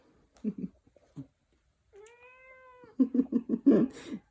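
A pet cat meows close by during a home yoga session, with one long drawn-out meow in the middle framed by shorter chirping cat vocalisations and soft rustling before and after.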